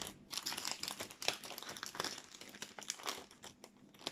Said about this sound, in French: excusez-moi pour le bruit du papier.